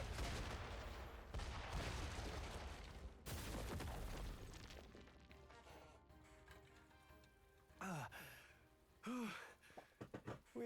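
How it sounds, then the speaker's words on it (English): Dense, rumbling bursts of explosions and gunfire in the video game Metaphor: ReFantazio fill the scene, easing off into scattered booms and short sweeping tones near the end. "this weird running section full of explosions"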